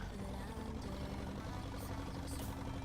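A gray Ferguson tractor's engine in Farming Simulator 19 drones steadily at idle, a constant low rumble with a buzzing exhaust note that fills the whole stretch at moderate loudness.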